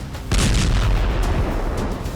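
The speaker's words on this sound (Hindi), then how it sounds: "धमाका उस जगह हुआ जहां रूसी सिक्योरिटी एजेंसी FSB का हेडक्वार्टर है।" An explosion near the Russian FSB headquarters: a sudden heavy boom that turns into a loud, deep, sustained rumble and roar, with no talking.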